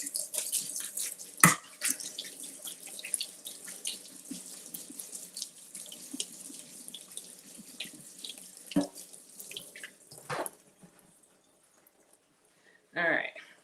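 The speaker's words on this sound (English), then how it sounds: "So let's give this a rinse." Strawberries are rinsed under a running kitchen tap, water splashing steadily into the sink with a few sharper clatters, while a person talks faintly. The flow fades near the end before a short final splash.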